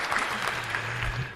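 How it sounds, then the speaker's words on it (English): Canned applause sound effect fired from a button, a short dense burst of crowd clapping heard alone. "Let's get that round of applause going."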